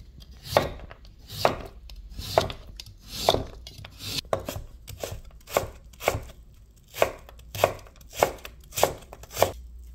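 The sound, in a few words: chopping radish with a knife for asagi pepper kimchi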